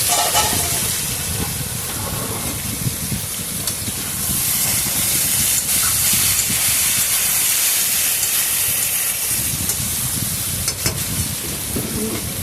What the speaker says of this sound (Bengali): সবজিটার সাথে মিশিয়ে ভালো করে একটু ভাজা ভাজা করে নিতে হবে